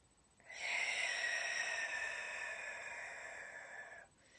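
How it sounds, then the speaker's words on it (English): A single long, steady exhale from the diaphragm, close to the microphone, lasting a few seconds and then stopping abruptly. "You can hear it when I breathe out."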